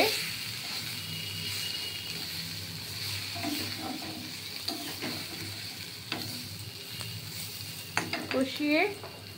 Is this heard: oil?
yes